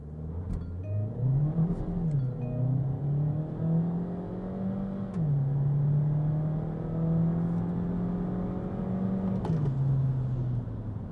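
A Baic Beijing 5 SUV with a turbocharged 1.5 engine accelerates hard on a slippery road after fresh snow, its engine note climbing steadily through several gear changes, heard loud from inside the cabin without talk.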